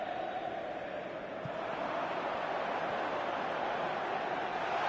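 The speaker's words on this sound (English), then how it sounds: "the crowd level has gone up a notch or 10" Stadium crowd in a football video game, a loud, dense, continuous roar of massed voices that holds steady for about five seconds.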